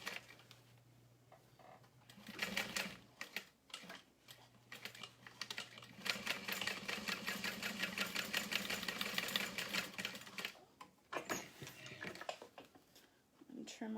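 A sewing machine runs in short and longer bursts, stitching two small lines on a small crossbody bag, with a steady mechanical whir that rises and falls; a person talks quietly at times over the stitching.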